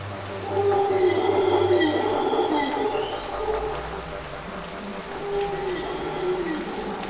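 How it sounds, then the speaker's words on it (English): Howler monkeys in the Amazon rainforest let out loud, drawn-out roaring calls that rise and fall continuously, layered over a dense background of jungle ambience. "Howler monkeys shout so loud that their calls might be mistaken for the thunder of the approaching torment."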